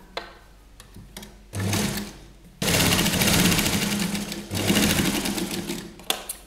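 A sewing machine stitches the bodice and sleeve joint of a trendy kurti in close, loud bursts, starting and stopping several times with short pauses between runs.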